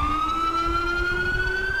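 Grand Theft Auto IV ambulance siren holds a slowly rising wail, loud and near, under a low rumble of traffic, with no voices.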